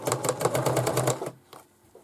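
A sewing machine stitches a back-tacked seam on fabric for a simple book cover, a fast rhythmic mechanical chatter lasting about a second and a half, then stopping, followed by a few faint clicks.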